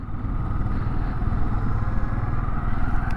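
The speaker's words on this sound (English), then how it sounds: "it is a clutchless motorcycle" A 2025 Honda Dax 125 clutchless motorcycle engine runs steadily at a low, rumbling idle, close by and continuous, with a faint mechanical clatter.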